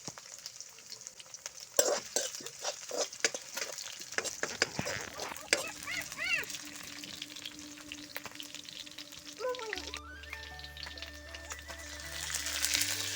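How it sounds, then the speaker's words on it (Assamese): Potatoes added to frying onions in a pan sizzle softly at moderate distance, broken by clinks and stirring knocks, with a faint animal bleat and other background noises, and no talk. "আলুখিনি অকণমান ফ্ৰাই কৰি লৈছোঁ"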